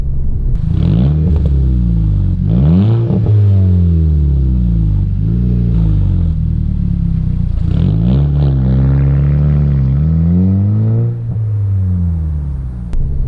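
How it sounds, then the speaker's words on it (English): A 2006 MK5 Volkswagen GLI engine revs repeatedly through a straight pipe exhaust, loud and close, with deep rumbling rises and falls and raspy crackles between pulls. "I actually really like the sound of this little straight pipe here."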